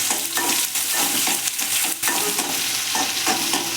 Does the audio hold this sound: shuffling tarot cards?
no